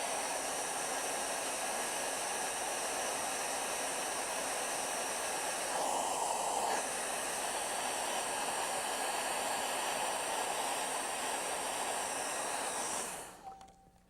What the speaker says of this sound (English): Get your hairdryer out. Dry these few specks of white.